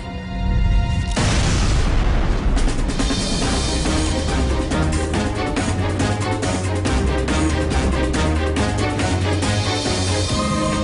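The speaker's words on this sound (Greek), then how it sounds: "Μια βίαιη μεγάλη έκρηξη" Sound effect of a violent explosion representing the Big Bang, a sudden loud boom that opens after a short quiet lead-in and rolls on as a dense, rumbling roar for several seconds.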